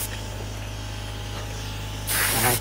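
Aerosol lubricant sprays in a steady hiss over the screws of a Traxxas X-Maxx RC monster truck, a short burst that swells louder near the end with no talking.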